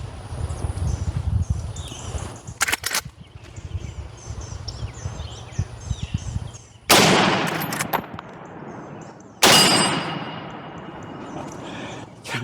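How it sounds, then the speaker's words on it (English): Lever-action Marlin 336 rifle firing outdoors: a few sharp, loud reports spaced seconds apart, the last two standing out clearly with ringing decay, amid quieter handling clicks and background noise. "Now, let's shoot some more."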